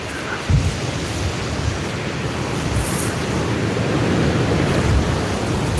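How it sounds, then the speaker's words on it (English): Wind and sea waves surround a fishing kayak on open water, making a steady, loud broadband rush throughout with a slight surge near the start and a gradual swell toward the end. "Wind's picking up."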